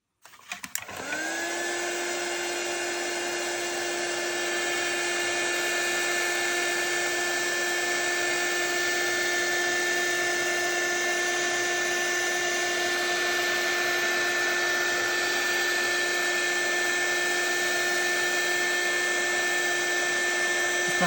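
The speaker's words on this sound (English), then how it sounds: "Heat gun." A heat gun blows hot air for paper-making and embossing work, a steady, loud whooshing roar with a faint whine that switches on quickly and holds unbroken for about twenty seconds.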